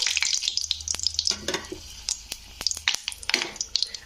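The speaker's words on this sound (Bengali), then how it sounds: "তো লঙ্কাগুলোকে একটু হালকা ভেজে নিতে হবে" Two dried red chillies fry in hot oil with a close, crackling sizzle full of sharp pops and snaps over a thin hiss, alongside the occasional stir, with no talking.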